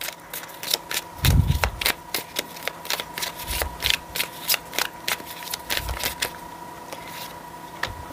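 A deck of tarot cards shuffled by hand at close range, with repeated crisp riffling flutters and card slaps in irregular bursts and a few soft thumps, with no voices.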